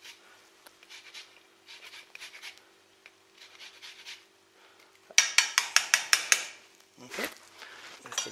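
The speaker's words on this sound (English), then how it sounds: "I'm just going to zest straight into the pan so all the oils get into it" Lemon peel is rasped across a grater into a pan in soft, rhythmic scraping strokes, followed by a run of sharper, quicker scrapes and faint clatter close by.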